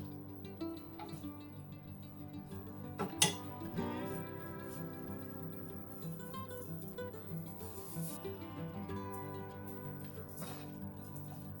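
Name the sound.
stirring chili and sesame oil into seaweed stem stir-fry in hot pan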